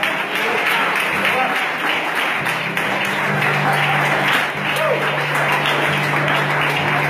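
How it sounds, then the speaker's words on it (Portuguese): A church congregation applauds with a continuous wash of clapping, accompanied by sustained low held tones and voices underneath. "Quem pode aplaudir o Senhor?"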